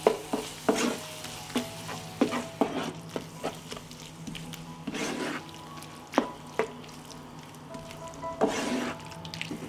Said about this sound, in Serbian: Promešat ću i propržiti 1 minut.